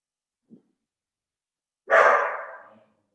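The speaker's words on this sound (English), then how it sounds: "there's a barking dog in here and no one else." A dog gives one loud, close bark in an otherwise quiet room, preceded by a faint, brief sound.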